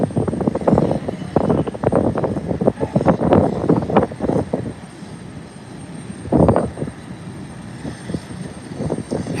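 An airliner rolls down the runway for takeoff with a loud, rumbling engine roar that surges and fades in waves, heard from a distance and without speech.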